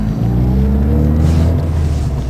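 Ford ZX2 engine idling high with the AC compressor engaged, a loud steady hum with strong low harmonics, the pitch holding level and close throughout with no speech.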